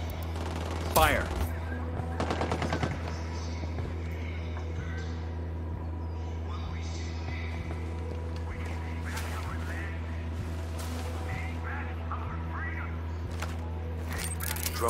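Gunfire rattles in the video game Ghost Recon Wildlands, with loud automatic bursts early on, then scattered distant shots over a steady low rotor hum, while voices talk between the shots.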